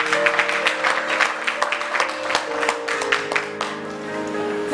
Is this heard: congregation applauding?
yes